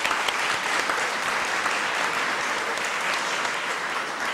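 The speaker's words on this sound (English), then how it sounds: "Let's give them a round of applause." A crowd at a college day celebration breaks into steady, full applause for honored staff, a continuous wash of clapping without any voices.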